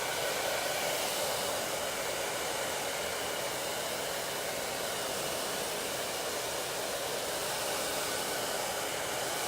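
A hair dryer blows on long layered hair, a steady loud whoosh of airflow that goes on without a break and with no voices.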